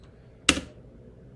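A single sharp keystroke, likely the enter key, on a computer keyboard, followed by a faint second tap at the end, in an otherwise quiet room.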